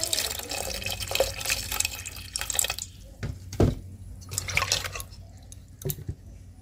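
Mung dal and rice being washed in water, sloshing and dripping in irregular bursts with splashy pours, close and fairly quiet, some faint background voice.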